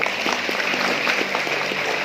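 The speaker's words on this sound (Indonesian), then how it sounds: "Tepuk tangan yang mulia." Church congregation applause during a Sunday sermon, a steady wash of many hands clapping close and full, with a faint rhythmic tapping pulse running beneath it.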